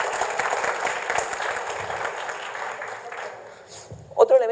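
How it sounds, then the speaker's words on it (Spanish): Audience applause at a Spanish-language conference, a steady wash of clapping from a room full of people that fades out over several seconds, with a speaker's voice briefly rising at the end. "Así que un aplauso por ustedes."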